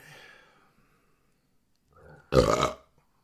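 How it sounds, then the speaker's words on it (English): A single loud, close burp erupts near the end, briefly preceded by a faint voice and a softer throaty grunt. "Sorry about the burp, guys."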